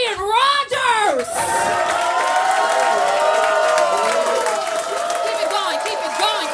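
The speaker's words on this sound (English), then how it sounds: "I want y'all to give a round of applause for Ryan Rogers." A live audience greets performer Ryan Rogers with loud clapping, whoops and excited shouts that swell together into a sustained roar, with voices calling out over the crowd.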